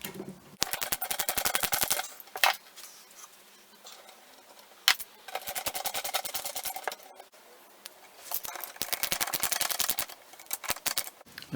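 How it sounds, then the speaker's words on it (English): Small machine screws are driven through little rubber feet into the bottom of an Ashford table loom, giving three bursts of rapid, close, crisp ratcheting clicks separated by short quiet gaps. "put these little rubber feet with these small machine screws on the bottom of the loom. So they all screw in."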